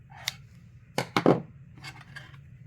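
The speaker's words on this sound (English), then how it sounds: "and then cut my yarn" Scissors snip through crochet yarn after finishing a small ghost plushie, giving a couple of quick, close, crisp cuts in a quiet room.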